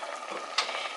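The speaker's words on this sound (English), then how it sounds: "just continue to stir this until it thickens up" A spoon stirs a thickening mixture in a pot on the stove, giving a soft, steady scraping swish with a faint bubbling sizzle and one brief clink near the middle.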